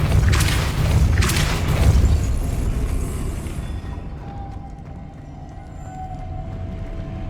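The Depulso spell cast in the video game Hogwarts Legacy: two forceful booming blasts in quick succession, then the noise fades into a quieter low hum with a faint tone.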